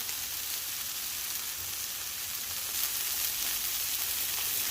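Jalapenos and onions frying on a hot flat top grill, a steady, close hiss of sizzling that holds evenly throughout without any voices.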